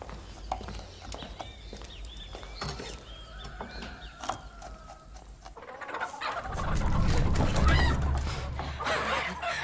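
A chicken clucks in short bursts over a busy outdoor scene with rustling and a low rumble that swells louder near the end.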